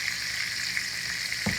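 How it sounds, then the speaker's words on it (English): Butter beans stirred in a pot, a continuous soft simmering hiss with a single faint scrape of the spoon near the end, short and close. "Giving them a good stir."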